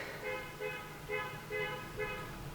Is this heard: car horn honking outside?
yes